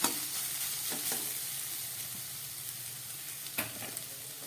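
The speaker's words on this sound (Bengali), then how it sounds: "গ্যাসটা একেবারে লোতে রেখে সবজিগুলোকে ভেজে নিতে হবে।" Vegetables fry gently in oil over a low gas flame, a soft steady sizzle with a few light clinks of a stirring spoon against the pan.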